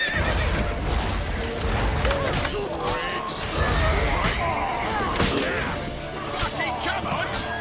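A horse neighs loudly amid pounding hooves and crashing clatter in The Witcher 3, a dense, chaotic scene with shouting voices layered over the animal.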